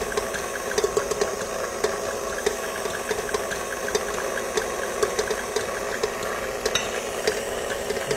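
An electric mixer beats egg yolks into cake batter, a steady whirring motor hum with small regular ticks of the beaters against the bowl, continuous and fairly close.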